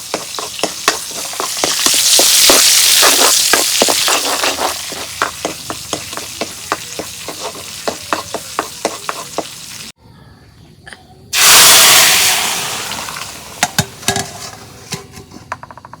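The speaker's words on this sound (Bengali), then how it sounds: "তেল গরম হচ্ছে, এখন আমি রসুন দিয়ে দিই" Garlic dropped into hot oil in a pan for a lentil dish, frying with a loud hiss and sizzle, punctuated by repeated metallic clinks and scrapes of stirring, with a brief quiet gap before a fresh burst of sizzling.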